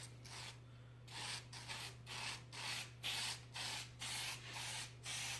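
Adhesive spray bursts from a nozzle onto cardboard in about eight short hissing pulses with brief gaps between them, close and fairly quiet, over a low steady background hum.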